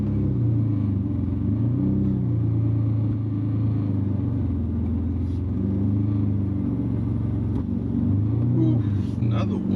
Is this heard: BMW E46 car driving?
yes